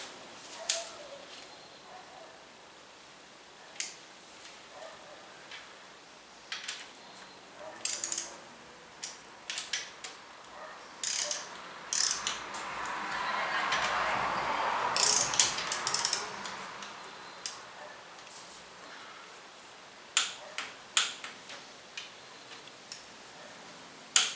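A ratchet torque wrench tightens bolts in steps during assembly of an old-school 383 stroker engine, giving sparse, close clicking bursts with quiet pauses between them.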